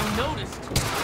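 Gunfire in the video game Quantum Break, a dense burst of shots with one sharp crack near the end, loud and close amid game noise.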